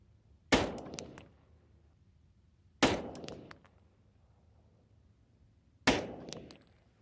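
A Glock pistol fitted with a brace fires three single shots a few seconds apart at a 100-yard range, each a sharp loud crack with a short ringing decay outdoors.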